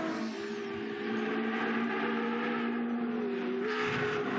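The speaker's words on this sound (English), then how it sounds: "The glorious sounds of the car." A historic racing car engine at the Le Mans Classic holds a steady, sustained note that swells slightly, a continuous moderately loud drone with no voices.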